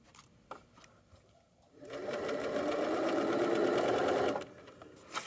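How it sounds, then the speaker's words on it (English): A sewing machine stitching the hood of a hoodie runs in one steady, close whirring burst of about two and a half seconds, with soft handling clicks before it and no talking. "double checking that my seam allowance is going the right way, and I just keep sewing, stopping before pins"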